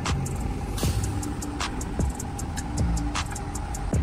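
Road traffic passing beneath a bridge near a resort entrance, a steady engine and tyre hum with intermittent clicks and ticks, moderately loud with no talk.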